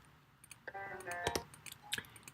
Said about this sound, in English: if I click faster, the bird jump faster